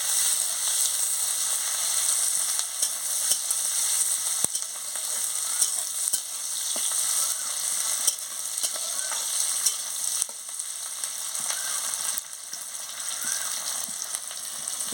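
Onions frying in a pan make a bright, continuous hissing sizzle that stays steady and close for the whole stretch, with occasional faint stirring knocks and no speech.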